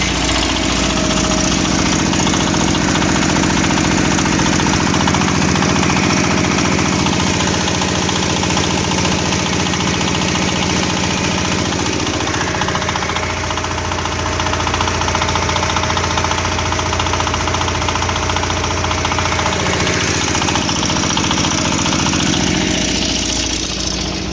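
A small engine-driven water pump for a walk-behind tractor runs continuously, loud and close, with a steady rough mechanical drone that shifts slightly in pitch partway through, pumping water.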